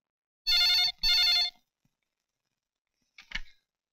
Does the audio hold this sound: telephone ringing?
yes